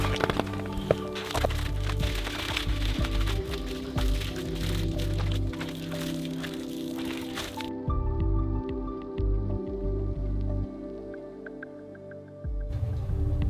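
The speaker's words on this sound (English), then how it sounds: "I'm gonna have a shower now." Shower water runs in a handmade rustic sauna in northern Canada, a steady close rush for several seconds that drops to quieter trickling and scattered drips over a low rumble, with no talk.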